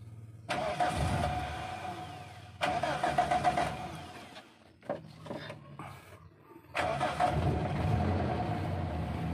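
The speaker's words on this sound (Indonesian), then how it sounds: "mesinnya halus ya mesinnya halus sekali ya" Zebra car with a manual transmission and low mileage, its engine running smoothly in three long stretches separated by quieter pauses, heard up close with no talking.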